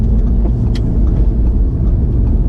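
A 2016 Audi S3 quattro drives around a roundabout, giving a loud, steady low engine and road rumble heard from inside the cabin, with a brief faint click partway through.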